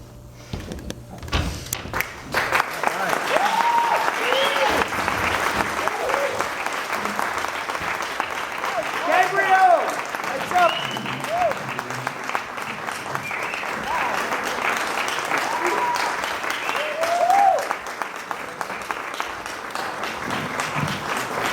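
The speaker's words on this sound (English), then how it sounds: "Let's give the actors a nice round of applause, everybody." A theater audience applauds actors after a performance, sustained clapping that rises quickly and holds for a long stretch, with scattered cheers and whoops poking through.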